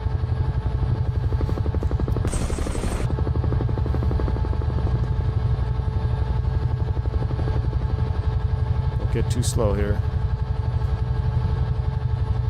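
UH-1 Huey helicopter in Microsoft Flight Simulator 2020, a steady turbine drone with rapid rotor chop running loud and continuous throughout, with a brief brighter whine burst early on and a short voice near the end.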